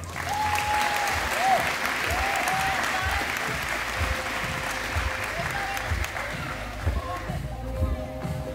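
Audience at the Akranes athlete-of-the-year award ceremony gives sustained, dense applause, loud and even throughout, with a few faint voices and a brief tone underneath.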